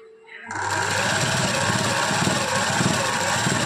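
A sewing machine starts after a brief quiet moment and stitches fabric with a steady, close mechanical whir and rapid needle clatter that runs on without pause.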